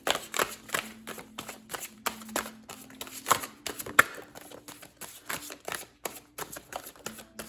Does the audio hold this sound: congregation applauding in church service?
no